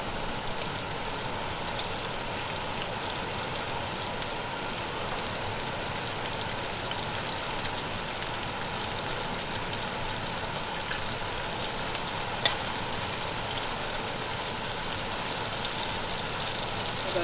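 Ginger and spring onions frying in hot oil for Chinese lobster noodles give a steady, close sizzle with dense crackling that holds at an even level throughout, with one brief sharper pop near the end.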